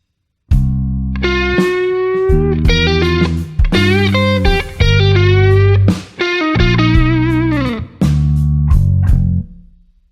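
A distorted electric guitar plays a bluesy lick over the 5 chord in bar 9, with sustained bends and phrases moving over shifting chords, loud and close, with brief pauses between phrases.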